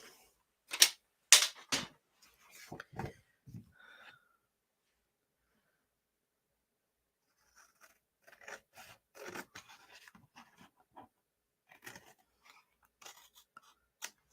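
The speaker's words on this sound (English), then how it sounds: "I'll just get my big scissors. We'll just trim that down." Large scissors snip through stiff card in a quick cluster of sharp cuts, then fall silent before a scattered second run of quieter snips.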